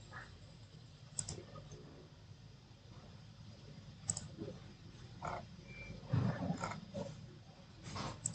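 Computer mouse clicks while working in Aveva E3D piping design software, a few faint, sharp ticks spread across a quiet room background, close to the microphone and isolated.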